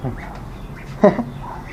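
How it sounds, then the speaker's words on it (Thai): A single short duck quack stands out briefly over a low background murmur, with faint voices nearby. "นี่เป็ด"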